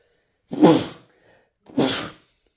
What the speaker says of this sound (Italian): devo starnutire